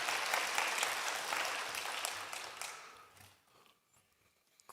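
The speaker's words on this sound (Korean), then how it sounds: "다시 한번 이렇게 영광의 박수 올려드립니다." A church congregation claps in thanks after a choir's hymn, a dense burst of applause that swells for a few seconds, then dies away to near quiet.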